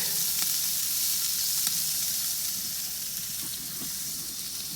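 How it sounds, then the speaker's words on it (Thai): Pork sizzling on a grill, with a steady close hiss and faint crackles that continue without a break. "เดี๋ยวขอย่างหมูนี่ให้สุกก่อน"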